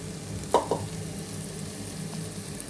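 Mutton frying in hot oil, a continuous close sizzle with a couple of quick stirring clatters near the start, and no speech.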